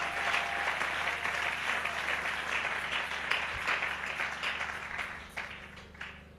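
A congregation at a church service applauds, a sustained dense wash of clapping from many hands that continues throughout and thins out toward the end.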